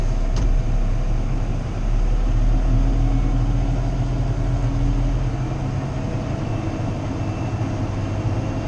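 A tractor with a PTO-driven spreader engaged for spreading Marshall ryegrass: a loud, steady low engine drone with a constant mechanical whine layered on top, continuous throughout, with no voices.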